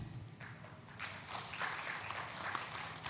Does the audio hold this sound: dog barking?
no